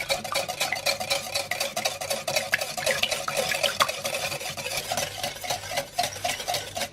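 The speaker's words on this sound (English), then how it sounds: "And just all whisk it all together." Keto pancake batter with almond milk and stevia whisked in a bowl, heard as rapid, rhythmic, close tapping and swishing strokes of the whisk against the bowl, steady and unbroken with no talking.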